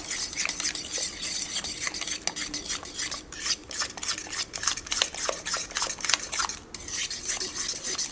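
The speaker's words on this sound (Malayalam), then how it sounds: "ഇനി മുട്ടയും കൂടിയിട്ട് ഇതിനകത്ത് നന്നായിട്ടൊന്ന് മിക്സ് ചെയ്യുക. നമുക്ക് ഇതിനെ മിക്സ് ചെയ്യാൻ വേണ്ടിയിട്ട് ഫോർക്ക് മാത്രം മതി കേട്ടോ." A fork beating eggs into a banana batter in a bowl, rapid rhythmic clinks and scrapes of metal against the bowl, close and continuous for several seconds with brief pauses, no talking.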